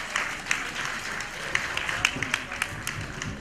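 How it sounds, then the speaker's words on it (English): Steady applause from a crowd, a dense wash of clapping with a few sharper individual claps standing out, continuing throughout. "A round of applause for her, please."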